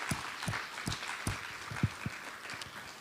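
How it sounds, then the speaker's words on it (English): Faint, thin applause from an audience at a privacy and data protection seminar, with scattered claps in a loose, fairly even rhythm and no speech over it. "Please join me in recognizing their admirable efforts with a well-deserved round of applause."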